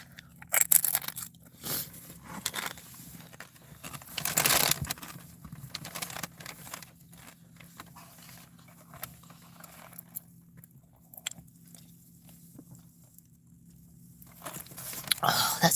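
Close, crunchy bites and chewing of a Taco Bell soft taco eaten in a parked car in a rainy Walmart lot, irregular crunches scattered over a quiet background with soft rustles.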